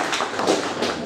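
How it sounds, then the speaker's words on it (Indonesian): Applause from a gathering welcoming a newly appointed chairman at an organizational meeting, a brief burst of scattered hand clapping with a few sharper claps standing out, fairly close and without speech. "Berikan tepuk tangan yang meriah untuk ketua yang baru."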